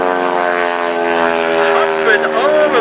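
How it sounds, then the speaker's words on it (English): A big Showcat biplane's propeller with tips breaking the sound barrier at the Dayton air show, giving a loud, steady rasping buzz with strong harmonic drone that shifts slightly in pitch as it passes. "The rapping sound you hear coming from the propeller of the big Showcat is not the exhaust, but the propeller tips actually breaking the sound barrier"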